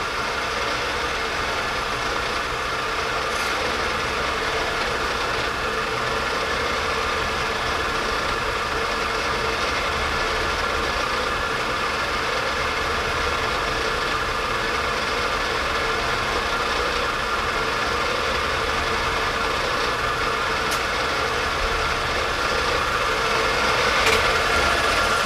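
A lathe runs a coil winder in second back gear at about 50 RPM, giving off a steady, even mechanical hum that continues throughout without a break.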